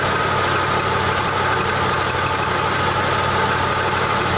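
A 1995 Pontiac Grand Am's engine idles steadily up close, with a continuous mid-pitched hum and a faint high squeak riding over it throughout, and no voices.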